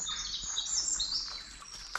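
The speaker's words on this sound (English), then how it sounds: "The bird song, the stream." Birdsong in the Cornish countryside near a stream: bright, high chirps and warbling tweets that ring out fairly close and fill the air continuously, with no voices.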